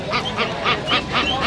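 Belgian ducks at a livestock market in Rangpur quack in a quick run of about five loud, nasal calls, close by. They are heard alone, without talking.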